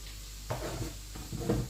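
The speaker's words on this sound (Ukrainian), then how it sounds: "підрумянили цибульку на зажарку на борщик" Onions browning in a pan for a borscht base give a steady close sizzle, broken by two short stirring scrapes.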